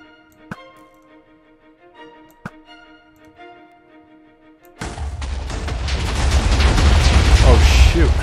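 Blocky TNT detonations in Minecraft, a chain of 100 blocks set off together: a few faint ticks and clicks over quiet game ambience, then a sudden loud, dense wall of rumbling explosions that builds and keeps roaring to the end.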